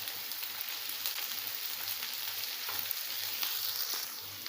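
Onion and ginger fry in a pan, giving a steady, soft sizzle that runs the whole time with no voices over it.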